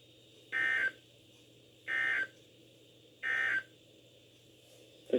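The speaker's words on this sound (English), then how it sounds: "The warning alarm tone will be activated for hazardous conditions." A NOAA Weather Radio required weekly test broadcast sounds three identical short electronic alert bursts, evenly spaced about a second and a half apart, clear and alone over a faint background hum.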